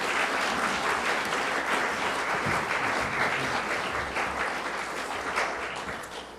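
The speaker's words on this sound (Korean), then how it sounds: "소개할 때 나오실 때 크게 박수로 환영해 주십시오" A large church congregation applauds warmly and continuously, a dense wash of clapping that tapers slightly toward the end.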